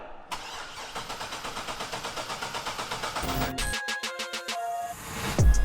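A supercharged Corvette C6 Z06 engine fires for the first time. The starter cranks in a steady rhythmic churn for about three seconds, the engine catches, and it settles into a rough, loud idle.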